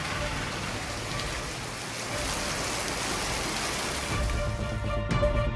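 Heavy rain pours steadily around Periyakulam in Theni district, a dense, continuous hiss of drops on surfaces, loud and close throughout with no pauses.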